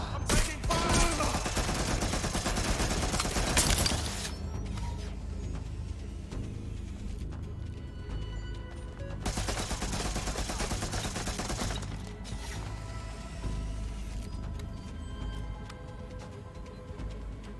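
Heavy gunfire from Watch Dogs: Legion comes in dense, loud bursts of rapid shots at close range, with short lulls between the volleys.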